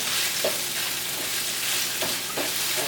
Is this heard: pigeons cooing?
no